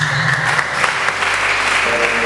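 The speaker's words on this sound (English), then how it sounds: "We can clap." An audience at a church youth fellowship session claps, a loud, dense burst of applause that fills the room steadily for a couple of seconds.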